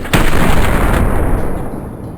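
Gunfire in Counter-Strike: Global Offensive, a loud close booming shot that rings out and decays over about two seconds, with no voices.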